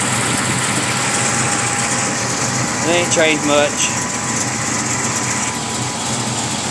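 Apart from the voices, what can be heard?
LT4 V8 engine with hot cam idling in an '82 El Camino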